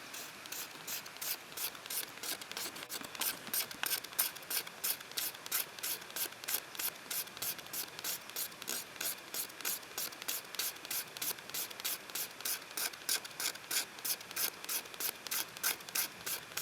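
A Scandi grind bushcraft knife scraping birch bark into fire tinder, a steady rapid series of dry rasping strokes, close and evenly paced throughout with no talk.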